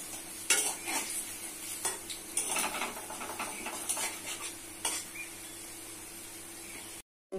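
Bori lentil dumplings fry in hot oil, a steady soft sizzle broken by a few louder clatters and stirring scrapes of a spatula in the pan, close and fairly quiet, cutting off briefly near the end.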